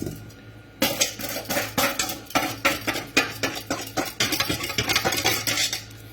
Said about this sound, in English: Start adding in slowly. Whisking all the time, otherwise it'll form lumps inside.